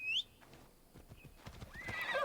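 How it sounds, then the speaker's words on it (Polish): A horse in an ancient Greek setting gives a short whinny, then takes a few soft hoof clops before a second, louder neigh closes the moment. "koń"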